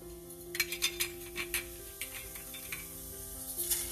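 Cumin seeds drop into hot oil in a kadai and crackle and sizzle in quick close bursts, with faint scraping of a spoon over a steady background hum and no voice.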